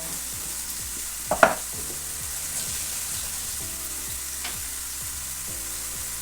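Hake fillets in gravy fry in a pan with a steady, close sizzle and crackle throughout, marked by a few sharp clinks near the start.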